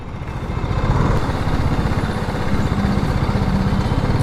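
A BMW 310 GS motorcycle idles close by with a steady, low, pulsing engine note that holds evenly throughout.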